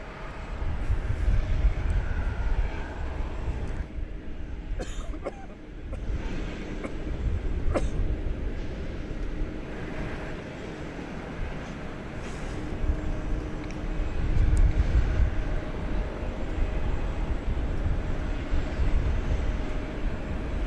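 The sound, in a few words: EVA Air Boeing 777 airliner departing DFW Airport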